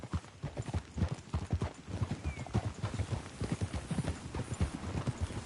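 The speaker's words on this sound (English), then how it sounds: "Let's cover some ground on a horse like that." Horse hooves clip-clop at a steady walking rhythm in Red Dead Redemption 2, close and moderately loud, with no talking.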